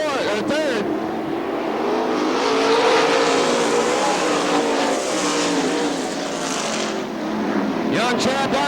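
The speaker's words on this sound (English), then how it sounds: "Race for the third spot now is Jason Bond moving up to Don Daggett to challenge third." 410 sprint cars racing on the oval at Crystal Motor Speedway in Michigan, a steady loud engine roar that swells and fades as cars pass, with a race announcer talking over it throughout.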